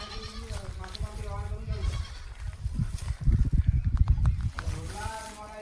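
Goats bleat repeatedly among a crowded barnyard din on a goat farm, several animals calling over each other at close range with a person talking underneath.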